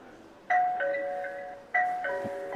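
An EZVIZ video intercom rings with two electronic ding-dong chimes, each a bright two-tone pair, clear and close in a quiet room.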